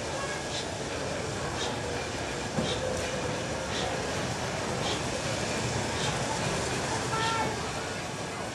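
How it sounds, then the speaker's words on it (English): LNER Class T2 steam locomotives double-heading with Midland Railway 53809 in front, arriving at Pickering Station: a steady rumbling train with rhythmic clickety-clack of wheels over rail joints, heard faintly at a distance beneath a person talking. "Arriving into Pickering Station, double-heading with Midland Railways 53809 in front"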